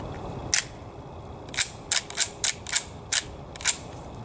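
Remington Model 12 .22 pump action rifle being cycled, a series of crisp metallic clacks and clicks, one alone and then several in quick succession, close and clear with no talk.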